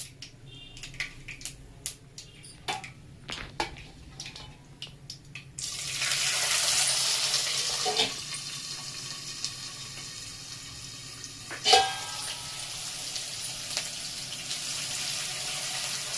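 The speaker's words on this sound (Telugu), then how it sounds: "ఇప్పుడు ఉల్లిపాయ ముక్కలు పచ్చి వాసన లేకుండా మంచిగా వేగాలి." Onion pieces hit hot oil with mustard and cumin seeds in a kadai, setting off a sudden loud, steady hiss partway through after a run of sharp pops.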